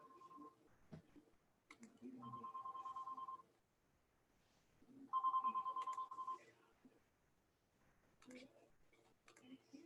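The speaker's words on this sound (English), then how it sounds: "I can hear the phone ringing now" A studio telephone rings in two bursts of rapid electronic trilling, the second louder, with talk and clicks around it in a live radio setting.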